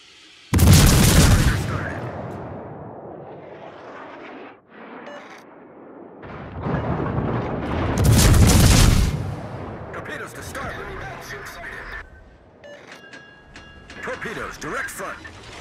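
Naval guns and artillery fire in a warship combat video game, two heavy booming salvos with rumbling tails, loud and close, amid in-game voices giving orders.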